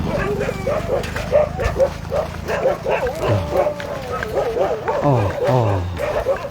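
Several dogs bark and yip repeatedly near a lodging during a pilgrimage trip in India and Nepal, the loud excited barks coming in irregular bursts with some whimpering, while a person speaks over them.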